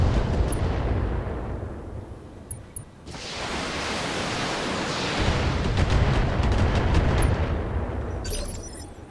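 Mech weapons fire in the BattleTech video game as dense, loud noisy roars and blasts. A sharp onset comes near three seconds and a sustained barrage continues through most of the clip.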